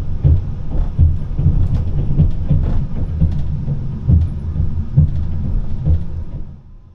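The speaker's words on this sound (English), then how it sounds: "These trains rattle and shake a lot, especially when going over points, often with loud banging noises that woke me up multiple times during the night." Overnight passenger train between Tashkent and Almaty rattling and shaking as it crosses points, a low rumbling roll broken by repeated heavy bangs and clunks at an irregular rhythm, close and loud, with no voices.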